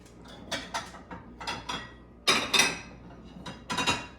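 Ceramic bowls and dishes clinking and knocking together as a small bowl is pulled from a stack in a kitchen, a series of close, bright clatters in short irregular bursts.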